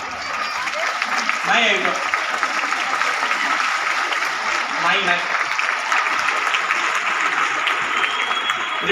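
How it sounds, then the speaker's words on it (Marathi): An audience at a women's forum stage event applauds continuously, a dense, steady wash of clapping from a sizeable crowd, while someone speaks briefly over it. "सर्वांसाठी जोरात टाळ्या व्हायला पाहिजे।"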